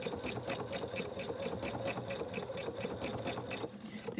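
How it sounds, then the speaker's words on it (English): A sewing machine stitching a blind hem on a folded edge of woven fabric, running steadily with a fast even mechanical rhythm, close and continuous, then easing off near the end. "a beautiful, she says, blind hem"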